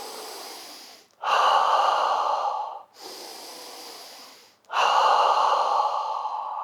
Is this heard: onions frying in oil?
no